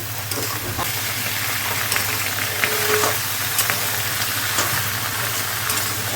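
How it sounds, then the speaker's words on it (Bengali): Chopped green chillies tipped into half-fried onions in hot oil for an okra and potato curry sizzle loudly and steadily, with scattered crackles and stirring scrapes close by. "কাঁচা লঙ্কা ভালো করে কেটে ধুয়ে রেখেছি এবার আমি এটা ছেড়ে দিচ্ছি পেঁয়াজটা অর্ধেক ভাজা হয়েছে"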